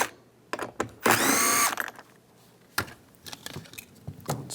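A power tool with a 7mm socket drives out screws from a door panel on a 2015-2020 GMC Yukon during a window regulator replacement, one loud sustained whir of about half a second, with faint clicks and handling noises around it.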